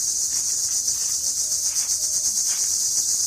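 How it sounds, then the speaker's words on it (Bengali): Crickets chirping at dusk in rural Bangladesh: a dense, continuous high-pitched trill that stays steady and fairly loud throughout, pulsing slightly, with no voices. "এই ঝিঝি পোকার গান আপনার কাছে কেমন লাগে?"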